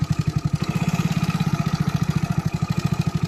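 A motorcycle engine runs close by at a steady idle, a rapid, even thudding pulse that keeps a constant rhythm throughout without revving.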